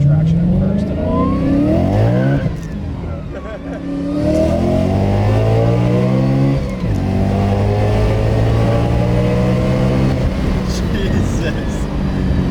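A BMW E92 M3 running on full E85 revs hard on a dyno, its loud engine rising through the gears in repeated climbing sweeps with brief dips at the shifts, close and continuous, with voices talking over it.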